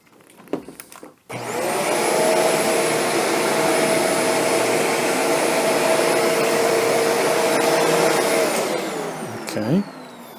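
A Shark Apex vacuum cleaner starts up with a loud, steady whine and roar, runs continuously nearby, then winds down near the end.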